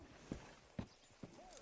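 Three spaced, muffled hoofbeats from a horse in Red Dead Redemption 2, slow clip-clop steps fairly close, with a faint whinny-like tone at the end.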